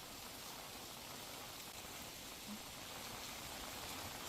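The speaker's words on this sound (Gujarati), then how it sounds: "ખેડામાં સારો એવો વરસાદ વરસી રહ્યો છે સતત વરસાદી માહોલ સર્જાયો છે" Steady rain falls in Nadiad in Gujarat's Kheda district during a windy afternoon shower, a constant close wash of droplets that keeps an even level with no voices over it.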